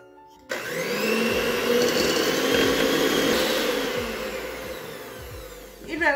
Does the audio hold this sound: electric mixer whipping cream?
yes